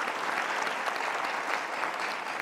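A television talk-show studio audience applauds, with steady, dense clapping that fills the room evenly from start to finish, with no voices standing out.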